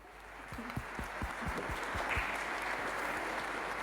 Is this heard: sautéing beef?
no